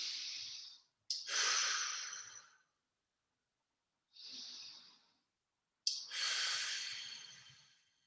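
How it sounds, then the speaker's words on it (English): Two slow, deep breaths close to the listener, each an inhale followed after a pause by a longer, louder exhale, with silence in between. "take a couple of deep breaths"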